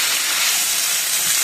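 Beef sears in a hot pan for tacos: a close, loud, continuous sizzle and steamy hiss that stays even throughout, with no talk.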